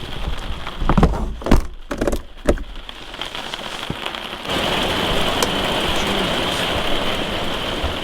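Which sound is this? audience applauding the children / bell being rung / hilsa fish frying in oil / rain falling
rain falling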